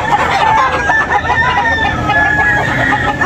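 Chickens at a backyard poultry sale, fowl calls and crowing over a busy crowd murmur, loud and close, continuous for a few seconds.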